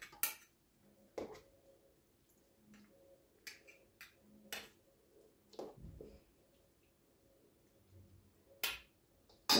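A metal spoon presses a raw tomato and eggplant mixture into a jar, giving sparse sharp clinks and taps against glass with quiet gaps between them, close and otherwise near silent.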